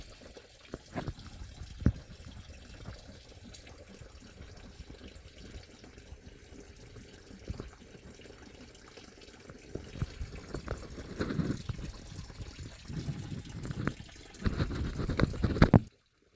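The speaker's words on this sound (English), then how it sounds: "It's definitely draining the reservoir right now. That's why it's such a strong, steady stream." Coolant drains from the radiator reservoir of a 2006 BMW X5 3.0i during a radiator flush, a faint steady trickling stream with occasional drips and splashes that grows a little louder toward the end.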